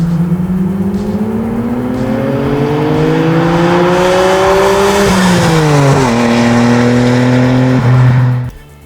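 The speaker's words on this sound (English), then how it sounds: "I turn it on and you hear that titanium full exhaust" A Nissan GT-R sports car with a titanium full exhaust revs loud and close, its engine note climbing steadily, dipping twice, then cutting off abruptly near the end.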